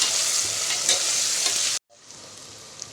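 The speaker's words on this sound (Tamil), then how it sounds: "இப்போ நல்லா வதக்கி விட்டுலாம் தக்காளி நல்லா மசிஞ்சு வரட்டும்" Tomatoes, onion and potato sauté in hot oil with salt, giving a steady loud sizzle that cuts off abruptly partway through, then continues as a quieter, softer frying hiss.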